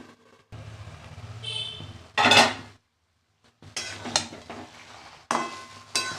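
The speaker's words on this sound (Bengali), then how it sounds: "আর একটু নাড়াচাড়া করে দিলাম" Mixed vegetables with spinach are stirred in a pan, giving bursts of scraping and clinking between quiet gaps, close and moderately loud, with a soft sizzle underneath.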